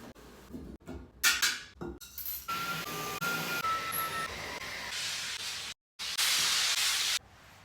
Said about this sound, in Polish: czyszczenie okien z moją parową to w ogóle to jest jakiś life changer